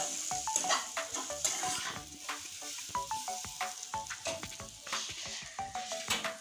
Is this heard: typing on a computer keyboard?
no